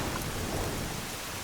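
Heavy rain falls in a steady, dense roar across the whole stretch, loud and close with no voices over it.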